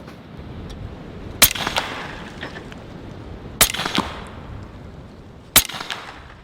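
A Western Rattler .457 revolver fires three sharp, loud shots at an outdoor range, spaced about two seconds apart, each followed by a short rattling echo.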